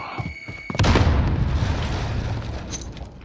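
A frag grenade detonates in a trios battle royale game, a sudden loud boom with a long rumbling tail that fades slowly over a few seconds, preceded by faint clicks and soft voice.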